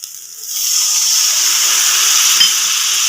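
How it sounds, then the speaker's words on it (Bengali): Spiced cauliflower masala in a hot pan bursts into a loud, steady sizzle as spice-rinse water is poured in, the hiss swelling within the first second and holding strong with no talk. "এবার আমি মশলা ধোয়া জলটা দেবো"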